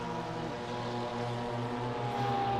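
A camera helicopter flies over the Laguna Seca race track during a multi-class race, a continuous droning rotor and engine hum with layered harmonic tones holding steady throughout, no voices.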